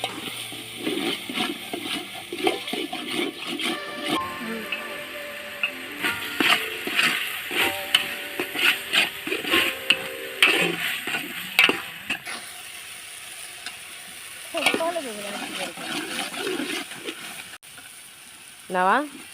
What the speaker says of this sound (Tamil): கிண்டு கிண்டு.